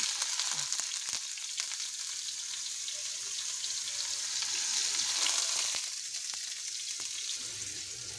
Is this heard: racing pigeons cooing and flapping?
no